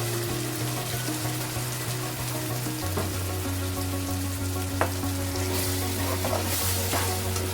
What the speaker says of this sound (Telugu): మనం ఇప్పుడు పాలకూర పేస్ట్ చేసి పెట్టుకున్నాం కదండి అది కూడా దీంట్లో వేసుకుందాం